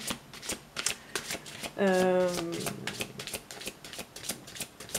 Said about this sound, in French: Continuer à faire des tirages de cartes.